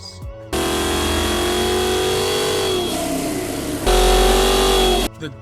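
Ford Foxbody Mustang with a Windsor 302 small block V8 revving loudly up close, a sustained throaty roar that dips briefly, then surges to a harder rev before cutting off.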